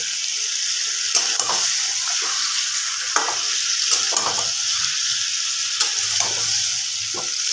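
Fish sautéing in a hot pan for a home-style chicken-and-fish curry cooking session: a steady loud sizzle with intermittent scraping and stirring clicks from a spatula, no talking.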